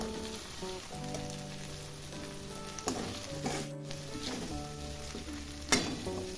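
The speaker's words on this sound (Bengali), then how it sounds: "এবার আমি একটা টমেটো কুচি করে রেখেছিলাম সেটা দিয়ে দিব" Chopped tomato hits hot spices in a frying pan for a jackfruit curry (echor kalia), giving a steady close sizzle with occasional stirring clinks and no voices.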